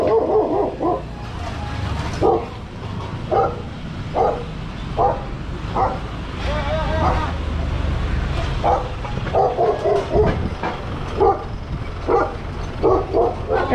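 A dog barks repeatedly in short, regular bursts, fairly close, with occasional yips over a background of traffic-like rumble.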